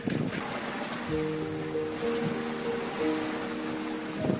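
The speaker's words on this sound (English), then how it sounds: "cranks up his engine and speeds the mama otter away to safety." A boat engine cranks up and speeds off across the open ocean, a steady motor drone with harmonic tones over surf and wind noise, carrying on to the end.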